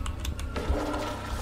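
A toilet flushes in a public restroom, a steady rushing of water with a gurgling swell partway through, moderately loud in an echoing room.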